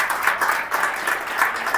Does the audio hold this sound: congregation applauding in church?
yes